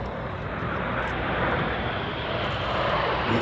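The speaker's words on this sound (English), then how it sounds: "In from the right-hand side, the aircraft are moving into Apollo." Red Arrows jets flying in formation at an air show at MCAS Miramar produce a steady, loud broadband roar that holds evenly throughout, with no talk.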